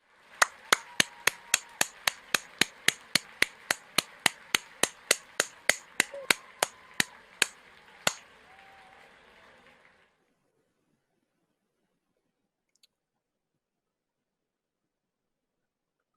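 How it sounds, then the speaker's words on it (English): Sharp, evenly spaced claps from graduates on an online call, about two dozen in a steady rhythm over eight seconds, close and distinct, then silence. "Could you please unmute yourselves and give yourselves a big round of applause?"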